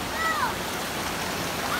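Cold stream water flows down from upstream at a riverside spot, a steady broadband rush heard close with no talk over it.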